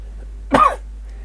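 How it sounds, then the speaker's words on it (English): A single short cough from someone with a cold, close and fairly loud against a quiet background. "I've had a bit of a cold lately, and I've got a cough."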